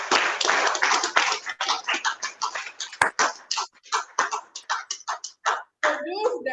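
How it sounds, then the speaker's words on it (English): Scattered applause from a small club meeting audience: sparse, uneven hand claps and taps in irregular bursts, close to the microphone, with gaps of near silence between them. "give a virtual and a physical round of applause for Toastmaster Aisha Karim."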